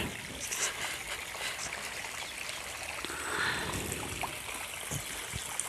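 Water runs steadily into a trough for watering trees and birds at a temple, with a soft, continuous trickling and splashing outdoors, fairly quiet and even.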